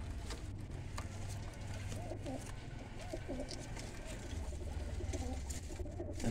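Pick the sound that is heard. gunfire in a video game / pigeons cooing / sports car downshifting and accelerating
pigeons cooing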